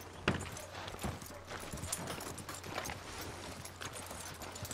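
Horse hooves clip-clopping at a walk in Red Dead Redemption 2 as the rider nears a hitching post, an even, moderately close rhythm over steady background ambience.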